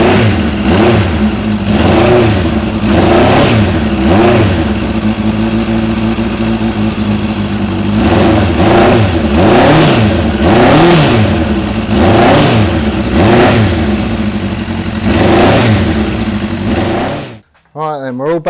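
Four carbureted engines warm up together, a loud, close, continuous roar that rises and falls in rhythmic revving swells before cutting off abruptly near the end.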